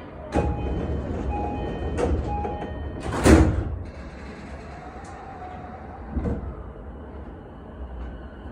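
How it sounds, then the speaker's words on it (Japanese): JR East E233-5000 series train doors slide shut with a heavy thump amid rumbling noise and a few scattered clanks, on the underground Keiyo Line platform 4 at Tokyo Station. "ドアが閉まりますご注意ください"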